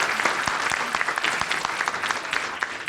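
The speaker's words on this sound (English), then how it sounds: "you can clap" A college convocation audience claps, a brisk crowd applause with distinct individual hand claps popping out over the dense patter, steady and fairly close.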